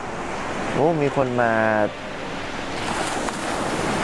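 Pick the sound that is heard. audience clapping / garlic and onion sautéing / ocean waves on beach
ocean waves on beach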